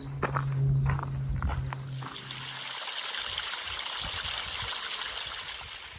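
A waterfall's flowing water gives a steady, broad rush along the Pacific Crest Trail. Brief handling noise and steps come first, then the rush holds on evenly and close.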